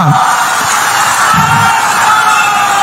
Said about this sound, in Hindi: प्रतिमा जी के लिए ताली बजाओ जरा